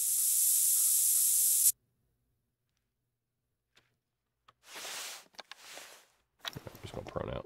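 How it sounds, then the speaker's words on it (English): Scent spray in theHunter: Call of the Wild hissing in two short bursts, close and moderately loud, after a long quiet stretch and following an earlier loud noisy passage. "I'm gonna spray myself down one more time."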